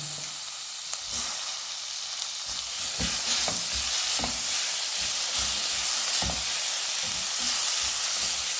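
Onions and tomatoes fry in hot oil in a pan, a loud continuous sizzle with intermittent scraping stirs and soft clinks throughout, close up and with no voices.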